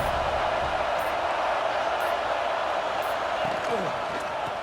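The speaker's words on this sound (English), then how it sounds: "this crowd is at fever pitch" Stadium crowd roaring in a college football video game during a third-down play in the red zone, a dense, steady wall of cheering that stays loud throughout.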